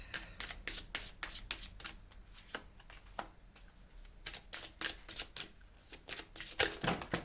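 Oracle cards being shuffled by hand, a series of quick riffling and flicking bursts, close and fairly quiet, with short pauses between them.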